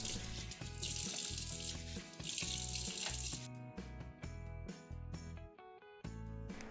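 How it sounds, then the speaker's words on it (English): Running tap water rinses a kitchen sink with a soft steady hiss, faint and partly masked by louder rhythmic background music, fading out about halfway through. "rinse the sink with running water"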